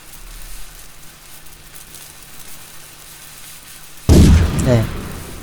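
A cannon-firing explosion effect from a computer cannon game bursts in suddenly after quiet background hiss, one loud booming blast with a sizzling, crackling tail that fades over about a second.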